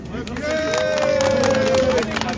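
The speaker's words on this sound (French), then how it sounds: "Applaudissez pour la Guinée." Audience clapping and cheering in a loud, busy crowd, with a sustained voice rising over the rapid patter of hands and general hubbub for a couple of seconds.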